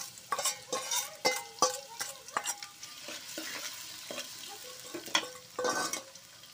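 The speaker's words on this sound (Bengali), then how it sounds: "তেলটা গরম হয়ে গেছে। এখন এই যে পেঁয়াজটাও দিয়ে দিব।" Onions hit hot spiced oil for pilau, a soft sizzle broken by repeated sharp clinks and scrapes of a spoon stirring in the pan.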